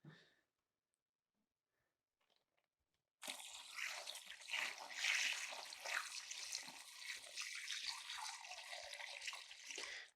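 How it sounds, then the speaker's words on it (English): Chicken brine poured from close by into a bag resting on a scale, a continuous splashing, gurgling stream that starts suddenly after a near-silent few seconds and runs to the end. "I'm going to just pop these on the scale and pour the brine in till I'm as close as I can get to that value"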